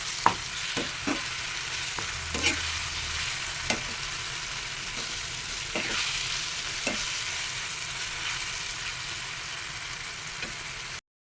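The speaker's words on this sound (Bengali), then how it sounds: "বেগুনগুলো দিয়ে দিলাম। এবার ভালো করে ভাজতে থাকবো" Eggplant fries in a pan for begun bharta with a steady hiss of sizzling oil, broken now and then by soft clicks of stirring, close and moderate in level, with no voices.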